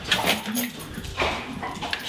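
A dog whimpers and yips in short high bursts while being taken outside in cold weather, close by, with rustling and faint handling noises between the cries.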